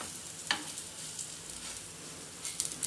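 Besan toast roasts in a pan, giving a faint, steady low sizzle with a couple of light clicks of utensil contact, no talking over it.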